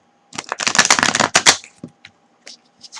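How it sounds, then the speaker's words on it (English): Tarot cards being shuffled briskly in a dense, rapid riffle for about a second, then a few lighter taps and slides of cards, close up. "just shuffling your cards here."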